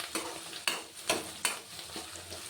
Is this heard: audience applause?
no